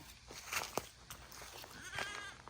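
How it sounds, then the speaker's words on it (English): Small goats in a backyard shed area in South Carolina bleating, a few short cries rising over soft ambient noise, close to moderately near. "They're just the cutest little goats."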